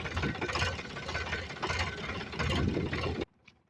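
A farm engine running near a paddy field gives a loud, steady mechanical rumble with a rough knocking texture. It continues for about three seconds, then cuts off abruptly and leaves near silence.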